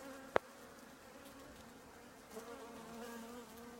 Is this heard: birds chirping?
no